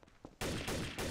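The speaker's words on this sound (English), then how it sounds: "he's shooting me through a window" Loud, dense burst of rapid gunfire erupts after a faint quiet moment in a Garry's Mod Trouble in Terrorist Town match, continuing as sustained, overlapping shots fired through a window.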